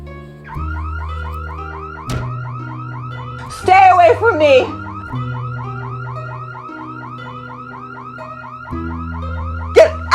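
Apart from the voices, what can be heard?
house alarm going off after panic button pressed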